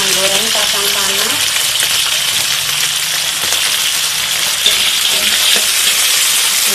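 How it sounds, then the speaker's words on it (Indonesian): Loud, steady sizzling and crackling of peanuts frying in hot oil in a pan, with occasional stirring scrapes and a brief voice at the start. "Kita akan menggoreng kacang tanah."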